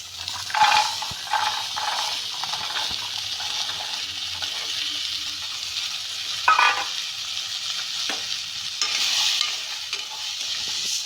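Soaked kabuli chickpeas frying in a pan on a stove, a steady hissing sizzle throughout with occasional stirring scrapes and clinks, close and fairly loud with no talking.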